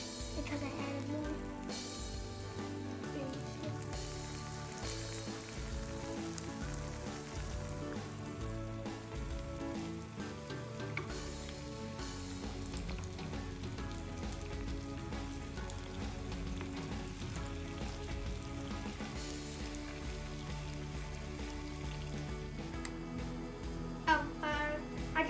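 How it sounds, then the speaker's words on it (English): Loukoumades dough fries in hot oil with a soft, steady crackling sizzle like light rain, faint and continuous for a long stretch. "I was expecting a bigger sizzle because I added more."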